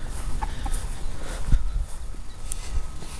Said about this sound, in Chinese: 这是我们的鸡，